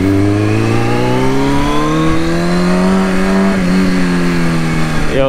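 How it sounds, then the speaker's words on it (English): A motorcycle accelerates hard in first gear, its engine note climbing steadily in pitch as it revs up, loud and close, with a brief dip and recovery near the end and no talk. "Yo, first gear can really get up on this bike, bro."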